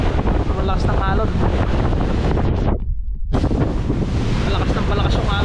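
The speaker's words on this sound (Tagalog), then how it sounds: "Malakas yung alon dito." Loud, constant roar of wind and strong ocean waves crashing close to the microphone on a boat trip to an island, with voices faintly mixed in.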